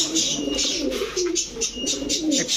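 Pigeons of old local breeds, including Lalpatti, Budapest, Rampuri and Beauty, coo repeatedly in a low rolling rhythm, close and fairly loud, with faint chirps above and no talk.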